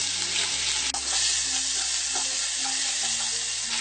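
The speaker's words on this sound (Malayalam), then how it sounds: "ഇനി ഇതിലേക്ക് ഈ എടുത്തു വെച്ചിരിക്കുന്ന ജിഞ്ചർ ഗാർലിക് പേസ്റ്റ് ഇട്ട് നല്ലതുപോലെ ഇതൊന്ന് ഇളക്കി കൊടുക്കാം" Ginger garlic paste frying in a pan, a dense, steady sizzle with regular stirring scrapes throughout, close and loud, without any talking.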